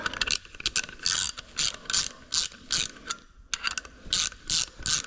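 Ratchet wrench spinning an M12 x 1.75 bolt through threads to clean them during a Brembo big brake kit install on a Z31 300ZX, heard as rapid bursts of clicking pawl in several quick runs with short pauses between.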